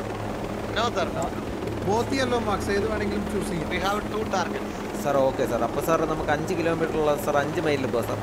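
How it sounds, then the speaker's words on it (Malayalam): Steady low rotor and engine drone of a helicopter flying in the game Ghost Recon Breakpoint, running continuously beneath someone talking throughout. "സാർ, ഹെലികോപ്റ്റർ മാക്സിമം സ്പീഡ് ഇതാണോ സാർ?"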